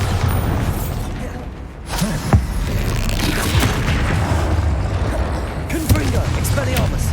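Blasting-spell explosions in a Hogwarts Legacy fight, several low booms and pops over a dense rumbling battle bed, with shouted voices breaking in between.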